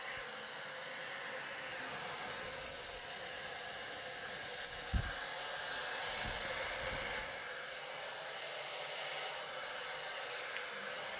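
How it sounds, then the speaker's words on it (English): A hand-held blow dryer runs steadily at high heat while drying hair, a continuous close airy whoosh lasting throughout with a couple of faint low bumps from handling. "if you're blow drying and you see all this smoke coming off the hair"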